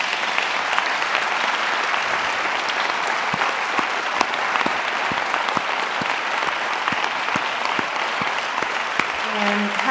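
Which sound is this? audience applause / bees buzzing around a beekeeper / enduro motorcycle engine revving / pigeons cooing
audience applause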